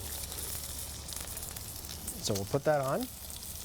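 Prosciutto-wrapped food sears in smoking-hot oil in a pan, giving a steady low background sizzle while someone speaks briefly over it.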